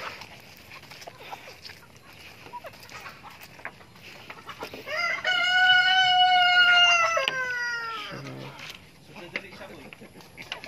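Farmyard chickens clucking after being fed in a rural Philippine setting, several birds heard, with a rooster-like drawn-out call rising in the middle over someone speaking throughout.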